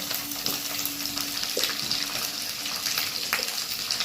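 Ginger and garlic frying in hot oil, a steady fine crackling sizzle with a few sharper pops, close and continuous.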